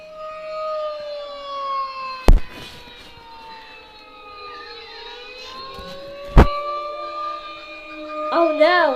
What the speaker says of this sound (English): Did you hear the siren?